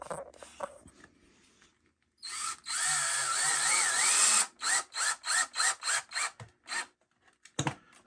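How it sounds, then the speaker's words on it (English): A power drill drives screws into pre-drilled pocket holes in wood. After one long whirring run it gives a rapid series of short bursts, close and clear, as it snugs the screw down. "So now I just have to glue it and screw it in."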